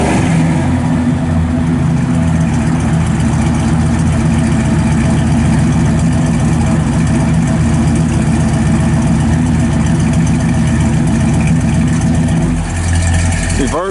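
A 1985 Chevrolet Silverado pickup truck engine idles steadily with a deep, low rumble, continuous and fairly loud throughout, settling slightly near the end.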